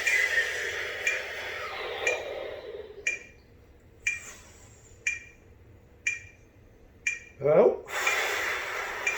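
Breathing exercise in timed counts, with a short forceful breath pushed out near the end and sharp clicks and short bursts at regular intervals in between, under a speaking voice.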